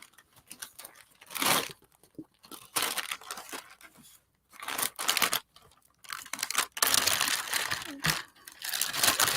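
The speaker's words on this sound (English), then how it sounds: "this wax paper that's all painty" Wax paper smeared with paint and glue is peeled and pulled away from a collage book page, giving bursts of close crinkling, tearing and crackling in an irregular rhythm, separated by brief pauses.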